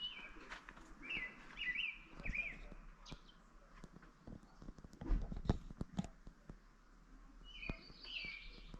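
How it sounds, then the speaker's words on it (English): Birds chirp at sunset in open South Dakota country, bright faint calls scattered over the stretch with distant voices, footsteps and scuffs of other people nearby. "you can hear the birds."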